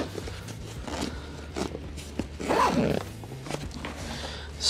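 Close pulls of YKK zippers on a 5.11 Rush 12 backpack, one long rasp then shorter ones, mixed with fabric handling and soft rustling, no voices.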